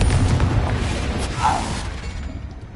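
The Confringo blasting spell in Hogwarts Legacy lands as a single loud explosive burst, with a crackling blast that swells midway and then decays, amid steady background game noise.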